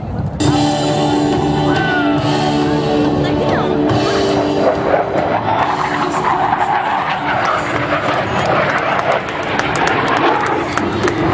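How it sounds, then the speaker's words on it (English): Blue Angels jet aircraft sweeping past in an inverted-to-inverted roll at a practice air show, a loud sustained engine roar that swells and holds steady throughout with no talk over it. "Our two solo pilots are approaching once again with an inverted to inverted roll."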